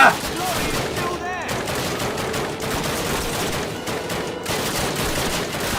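Rapid gunfire rattles through a Call of Duty firefight aboard a ship, dense bursts of automatic shots repeating across the whole stretch, with someone speaking occasionally over the shooting.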